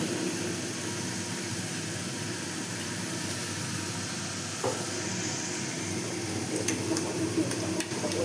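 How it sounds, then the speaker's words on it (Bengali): Spice paste for doi katla fries in a pan, giving a soft continuous sizzle with occasional stirring scrapes and small clinks toward the end. "মশলাটা আমি যতক্ষণ মশলার উপর থেকে তেল না ছাড়বে ততক্ষণ আমি মশলাটা কষিয়ে যাব"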